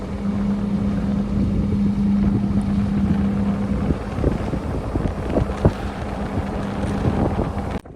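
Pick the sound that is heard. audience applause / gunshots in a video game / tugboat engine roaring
tugboat engine roaring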